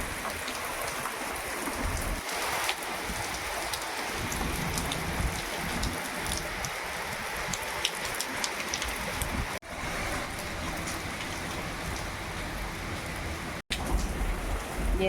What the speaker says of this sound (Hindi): और बारिश बहुत तेज़ आ चुकी है।